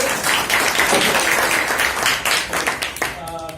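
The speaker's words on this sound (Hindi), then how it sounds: "तो हम लोग सभी जोरदार ताली के साथ राधे सर का स्वागत करते हैं।" Loud, dense audience applause welcoming a speaker at an ITR and GST expert session at an institute in Jabalpur, sustained throughout and tapering near the end as a voice begins.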